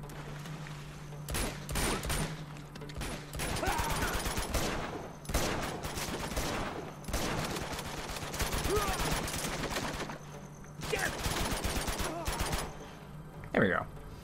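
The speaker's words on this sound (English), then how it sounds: "I think I just need to shoot these guys in the face" Gunfire crackles in bursts as enemies are shot down in Uncharted 2, rapid volleys starting and stopping over the length, with a person talking over the shooting.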